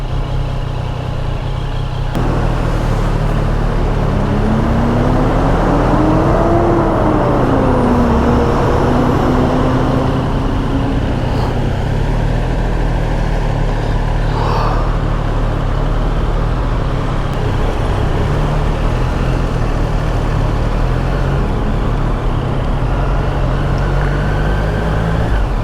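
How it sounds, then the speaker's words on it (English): Continuous dense road traffic in Tokyo, heard from a Triumph Street Triple RS motorcycle, with a constant loud roar of engines and road noise and a vehicle passing with a rising then falling tone, no talk. "Traffic was a little bit heavier than I expected."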